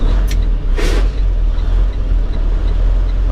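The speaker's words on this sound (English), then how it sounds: "All right, let's downshift to 5th." Truck engine, heavy diesel drone downshifting to fifth gear with a steady loud low rumble throughout, plus a brief hiss near the start.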